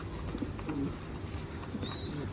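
Low, soft coos from a young pigeon sound a few times against a murky background, with a brief higher chirp near the end.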